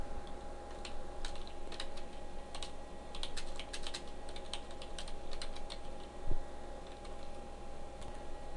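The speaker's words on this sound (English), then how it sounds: "I'm going to start by typing a heading tag." Someone types on a computer keyboard while coding an HTML heading tag, producing close, quiet, irregular clicks in short bursts with a steady room hum underneath.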